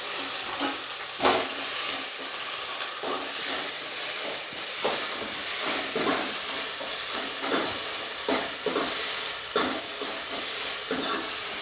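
Chopped onion frying in a pan for bhaat-bhaaji, a steady close sizzle and hiss throughout with occasional crackles and stirring scrapes, no talking.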